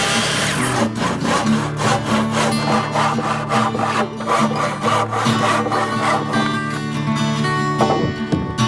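Hand saw cutting through a wooden roof rafter, a steady run of rhythmic back-and-forth strokes, loud and close, continuing for several seconds without talk.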